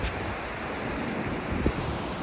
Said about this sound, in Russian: Ну и главная прелесть – это океан.